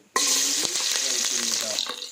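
Celery, green chilli and capsicum hit a hot pan for Chinese chilli chicken, bursting into a sudden loud sizzle that keeps crackling steadily, close by.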